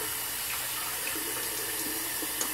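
Water runs steadily from a tap into a water bowl, a continuous close hiss and splash with no pauses or talking.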